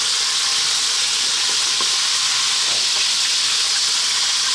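Cubes of beef, lightly fatty and boneless, frying in hot oil over lively heat for a beef curry, a loud, dense, continuous sizzle and hiss close by, with no talking.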